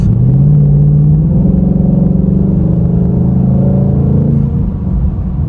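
A Ford Mustang's engine pulls loud and close under acceleration, its rumbling drone climbing in pitch and then dropping as the automatic gearbox shifts up, with no one speaking.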